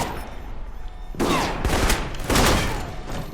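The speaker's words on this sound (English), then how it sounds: "Wait, who's shooting at me?" Gunfire in the video game Alpha Protocol: after a quieter stretch, two loud bursts of rapid shots hit close, the first near the middle and the second shortly after, each fading into echo.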